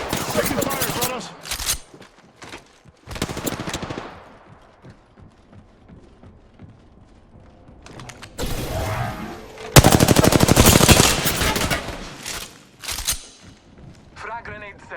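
Bursts of automatic gunfire in the video game Apex Legends, arriving in loud, dense volleys separated by quieter gaps, with a character voice speaking between the shots.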